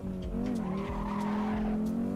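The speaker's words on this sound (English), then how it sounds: "Oh, listen to that engine." A race car in the Assetto Corsa driving game, its engine droning loud and steady at high revs, with hints of tyre squeal and skidding throughout.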